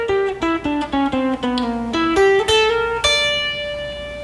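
A guitar plays a jazz lick of quick single notes stepping down and then back up, ending on a ringing held note, loud and close with no talking.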